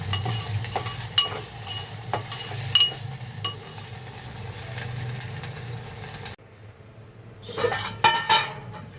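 A masala is sautéed and stirred in a pan for a Dangol fish dish, with repeated metallic scraping and clinks of a spoon against the pan over a low steady hum, then a brief pause before a burst of louder clatter.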